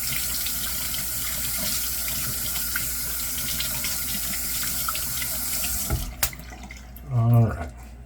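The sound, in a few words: wetting a shaving brush with water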